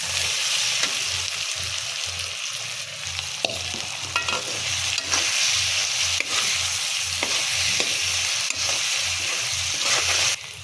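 Pre-fried paneer cubes are stirred into hot oil with red chili in a pan, giving a continuous, close sizzle broken by repeated spatula scrapes and stirring knocks, with no talking.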